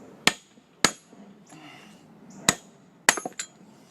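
Hammer blows driving out a front wheel bearing piece on a 1998 Volkswagen Jetta Mk3: five sharp metallic strikes at uneven intervals, the last a quick cluster of ringing hits, close and loud with no talking.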